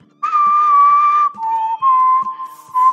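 A person whistles clear sustained tones, a long steady note followed by several shorter ones with small pitch changes, loud and close, with soft low thuds between.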